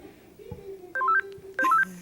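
Telephone keypad dialing tones from a game-show-style phone-a-friend call at a school board meeting: two quick clusters of DTMF beeps about half a second apart, clear and fairly loud over a low room hum.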